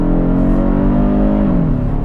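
Four-cylinder engine of a 2022 Kia Stinger GT-Line pulling hard under launch-control acceleration, a steady droning tone rising slightly then easing as revs shift, loud and close from inside the cabin.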